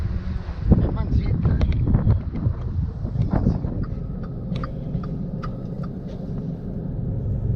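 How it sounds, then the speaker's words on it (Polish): Strong, cold gusty wind buffets the microphone with low rumbling roar on Tenerife, while a person talks over it near the start. "zerwał się wiatr. I w ogóle zimny taki wiatr jest"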